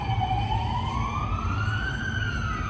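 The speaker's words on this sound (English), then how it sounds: "including the sounds and alarms of this city." An emergency vehicle siren wails in a city, one slow tone sweeping up and falling back, heard clearly over steady low street rumble.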